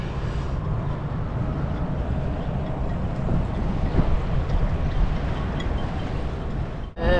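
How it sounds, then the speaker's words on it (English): Steady wind roars around a sailboat riding at anchor, a constant broadband rush with buffeting gusts for several seconds, dipping briefly near the end. "About half the wind we had last night."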